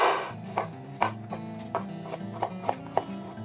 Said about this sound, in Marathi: पयलीं आमी गार्लीक कातोरया. हांव गार्लीक सारकी बारीक कातोर.